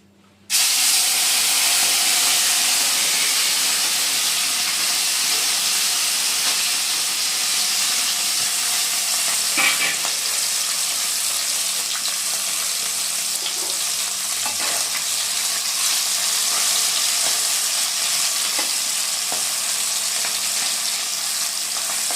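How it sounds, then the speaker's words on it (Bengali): Steady, dense frying sizzle of small mola fish in hot oil, loud and continuous throughout with occasional pops and crackles, no voices. "মরলা মাছগুলোকে ভেজে নিচ্ছি।"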